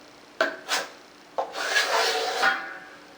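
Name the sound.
12-inch trowel scraping drywall mud across wall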